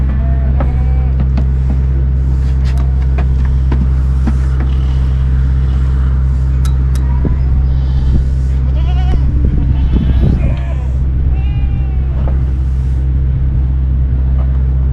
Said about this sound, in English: but he's a nice goat.